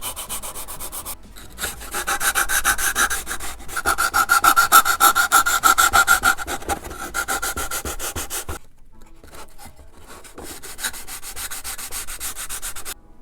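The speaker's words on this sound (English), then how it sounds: "I did most of the sanding" A sanding block scrubs over a wooden fuselage for a Barnstormer 25S vintage RC plane, with close, steady back-and-forth strokes that pause briefly before the rhythmic rasping resumes.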